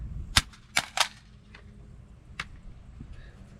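Rifle magazines, GI and polymer types, dropped one after another onto a concrete walkway: a few sharp, clattering impacts with short bounces, spaced apart in an otherwise quiet outdoor setting.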